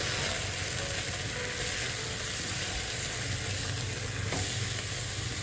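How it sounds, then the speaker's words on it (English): Mushrooms fry on high heat in a pan at an outdoor kitchen, giving a steady, loud, close sizzle that runs unbroken throughout. "Now I want to cook my mushroom. High heat."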